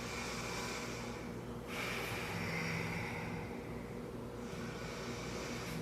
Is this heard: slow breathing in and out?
yes